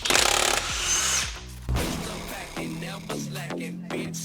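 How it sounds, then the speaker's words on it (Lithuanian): A power tool, likely an impact wrench or drill, drives car wheel bolts on a Dodge Challenger in a garage: a loud whirring burst at the start, then shorter bursts and clattering bolt sounds that fade. "Čia pirmą kartą tokius varžtus suku ratų."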